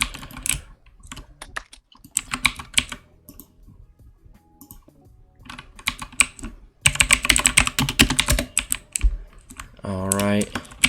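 Fast clicky typing on a cheap 60% keyboard fitted with very loud switches, close and dense, broken by short pauses, with a brief burst of talk in between.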